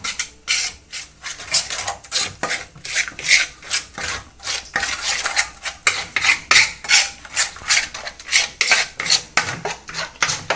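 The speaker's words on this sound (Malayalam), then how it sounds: "മസാല നന്നായിട്ട് മിക്സ് ചെയ്ത് യോജിപ്പിക്കുക." Masala marinade with yogurt being mixed for grilled chicken: steady rhythmic rubbing and scraping strokes, close and fairly loud, repeating for about ten seconds with no talking.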